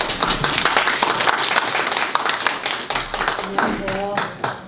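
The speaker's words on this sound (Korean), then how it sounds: "오늘은 구기자 기능성과 약선차 배합이라는 주제로 한국체험차문화연구원 오승현 원장님을 박수로 모시겠습니다." An audience at a county farmers' college lecture on goji berries and medicinal teas claps to welcome the speaker, with uneven, close-sounding hand claps mixed with voices talking, and speech emerging near the end.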